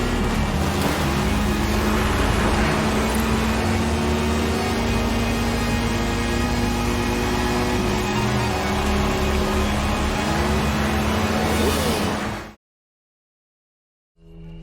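Car engine in a driving video game set in Mexico, a steady continuous drone with a sustained low hum, loud and unbroken for about twelve seconds before cutting abruptly to silence, then briefly returning.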